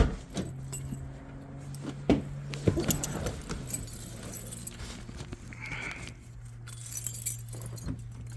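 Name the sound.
Nissan Z engine with Injen cold air intake heard from cabin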